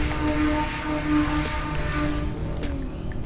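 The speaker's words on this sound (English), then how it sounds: "Let's go up and do a really long knife edge spin with the clouds." E-flite Turbo Timber RC plane performing a long knife edge spin outdoors, a steady electric motor whine with wind rush, moderately loud and continuous, no talk.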